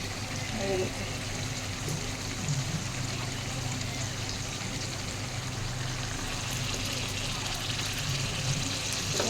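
A paste of ground capsicum, tomato and green chili fries in a pan, giving a steady, quiet sizzle that stays even throughout.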